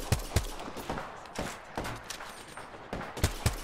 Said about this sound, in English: Now the other squad's shooting at us too.